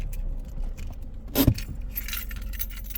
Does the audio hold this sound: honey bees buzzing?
no